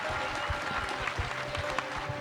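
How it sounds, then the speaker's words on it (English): A festival audience at a live show applauds steadily, a dense wash of clapping with a few louder claps and crowd noise beneath throughout. "I'd love to give a huge round of applause to our wonderful guests."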